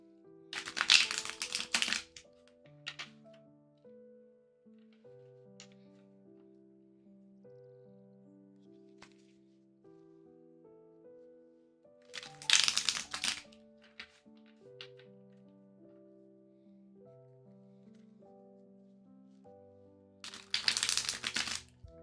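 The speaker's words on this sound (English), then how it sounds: "I'm going to shuffle this a couple of times" A deck of tarot cards is shuffled in three short crisp riffle bursts spaced well apart, with soft music playing in between and faint taps.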